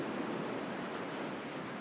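Ocean waves washing onto a sandy shore, heard as a steady, fairly loud broadband roar of surf that holds constant over a short stretch with no voices.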